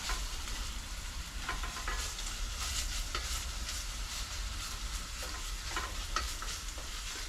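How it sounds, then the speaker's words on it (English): Browning beef is stirred in a frying pan in a cabin, giving a quiet, even sizzle with light intermittent scraping taps from the utensil and no speech. "Let's give this browning beef a bit of a stir."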